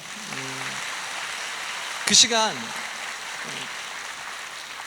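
A church congregation at a Sunday service claps in steady, sustained applause that fills the room, with a voice speaking briefly over it partway through.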